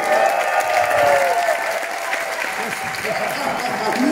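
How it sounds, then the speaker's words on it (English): An audience at a dance festival applauds a ladies' bachata team after their performance, continuous clapping with cheering and whistles, and a voice faintly audible underneath. "Give these lovely ladies a round of applause, please."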